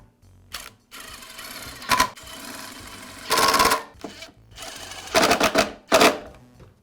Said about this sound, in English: I'll start all the bolts by hand and then secure them with the impact driver